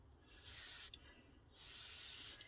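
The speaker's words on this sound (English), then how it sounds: "we're going to spray a little on the top here" Two sustained hisses of aerosol spray onto the top of a 1/35 scale model tank, each lasting under a second, separated by a short pause, close and steady.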